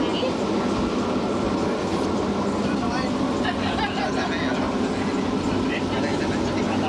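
A train rumbles steadily along the rails, a continuous loud roar with faint rhythmic clatter and people talking underneath.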